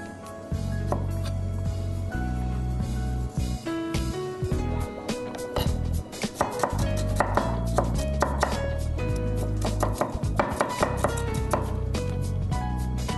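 Fresh ginger, quite fibrous, chopped with a knife on a cutting board for a fried fish dish, steady rapid blade strikes repeating close up over a busy music bed, with no talk.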